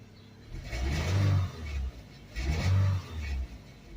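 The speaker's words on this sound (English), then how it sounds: "That's me revving it up." A 2004 Suzuki Forenza, freshly restarted after eight years of sitting on old fuel, revved twice from idle, two moderate swells of engine rise and fall with quieter idling between.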